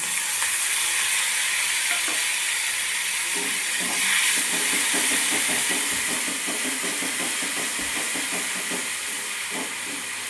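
Tomato paste sizzles in a frying pan for a fish curry, a steady loud hiss and crackle with repeated spatula scrapes and taps as it is stirred.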